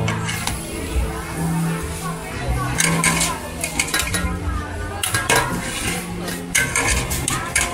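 Metal utensils scrape and clatter rhythmically against a large wok as Thai noodles with water mimosa are stir-fried in bulk, with people chatting in the background.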